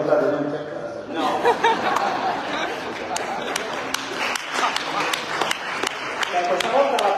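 Scattered hand claps ring out from an audience at a public conference in Cagliari, sharp separate slaps mixed with chuckles and ongoing talk.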